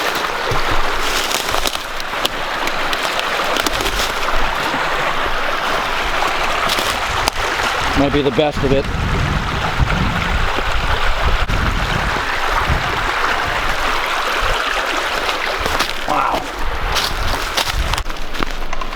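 Steady rushing flow of a river too wide to jump across in the New Hampshire woods, constant and close, with a brief spoken remark partway through.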